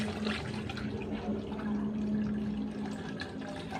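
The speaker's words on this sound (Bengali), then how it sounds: "প্রথমে আমি জলটা দিয়ে নিলাম।" Water poured into a vessel to make bel (wood apple) sharbat, a steady close splashing and gurgling that runs throughout without pause, with no talking.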